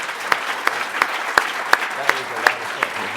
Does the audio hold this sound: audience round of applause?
yes